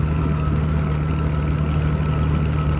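A Massey Harris 92 combine's engine runs at a steady idle, a loud, even low rumble that holds constant throughout with no talk over it.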